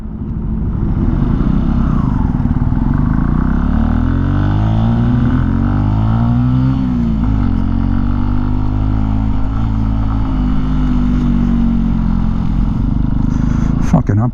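A Benelli TNT 135 motorcycle rides in traffic, its small engine droning loudly and steadily close up while revving rise and fall, with someone talking over the engine noise throughout.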